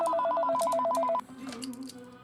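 An office telephone at a police station rings with a rapid trilling bell for about a second, then cuts off, leaving a faint room hum.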